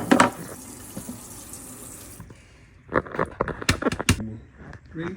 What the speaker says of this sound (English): just kind of rinsing these off a little bit